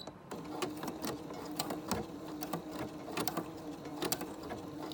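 Sewing machine running slowly over delicate mesh fabric, a soft steady hum with regular light needle ticks, close and quiet, without talking.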